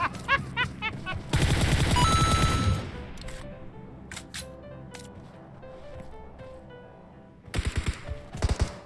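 Gunfire in the mobile battle-royale game PUBG Mobile: short rapid bursts of automatic shots at the start, then a long dense fusillade, scattered single cracks afterwards and a final cluster of loud bursts, with quieter game ambience between.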